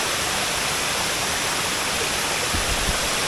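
A waterfall on Tablas, Romblon pours in a constant broad rushing roar, dense and unbroken, close and loud, with a few faint low thumps near the end and no talking.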